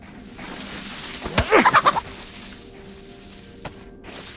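A chicken in the survival game DayZ clucks in a quick burst of several sharp notes over quiet outdoor ambience, fairly close and heard alone.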